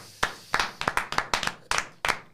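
A handful of hand claps in an irregular burst, about a dozen sharp close slaps in quick succession, with no voice over them.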